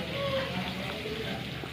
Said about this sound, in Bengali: কড়াই এখন আলুটা ভেজে নিচ্ছি একটু